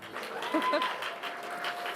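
An awards-show audience claps for the host returning to the stage, a moderate, thin spatter of applause with a faint tone in the background.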